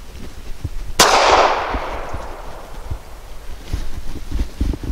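A single sharp shot from a Springfield Armory 911 .380 pistol firing Remington UMC 88-grain jacketed hollow point, loud and close, its report decaying over about a second amid outdoor wind and low rumble.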